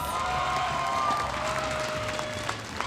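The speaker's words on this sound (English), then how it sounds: "give APBR a big round of applause" Crowd at an M5 esports knockout match applauding a team, a continuous wash of clapping and cheering heard over music, fairly loud and sustained for the short stretch.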